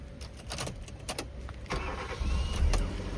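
A 2009 Hyundai i10 1.2 Magna petrol car cranks and fires up, a series of clicks and cranking giving way to a louder, steady engine idle close by.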